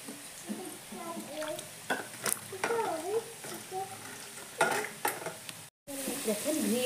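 Potatoes fry in a pan for a bamboo shoot chicken curry, a soft sizzle broken by scraping, clinking stirs from a utensil, with a person talking over the cooking throughout.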